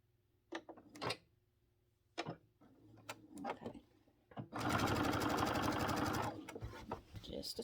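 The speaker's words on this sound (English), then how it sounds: "I'm going to top stitch in a good quarter inch or so" A sewing machine top-stitches around an apron at a long stitch length, a loud steady whirring burst of nearly two seconds that follows a few handling clicks and taps.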